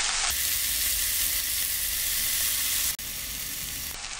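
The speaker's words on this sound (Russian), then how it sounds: "Дальше отправляем в сковороду квашеную капусту." Sauerkraut fries in a skillet with a continuous bright sizzle, close and fairly loud, broken by a single brief dip near the end, with no voices present.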